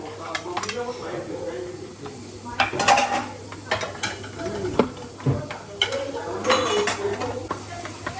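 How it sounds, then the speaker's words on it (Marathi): Pots and dishes being scrubbed and knocked together in a home kitchen after a party meal, with repeated clattering clanks and scraping in uneven bursts, close by, under low background noise. "भांडी घासतो आता फटाफट."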